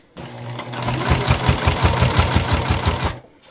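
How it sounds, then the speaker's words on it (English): A sewing machine topstitches a beginner pack, one short close burst of fast, rhythmic needle thumps that starts and stops cleanly. "make sure everything is at the same level when we're top stitching"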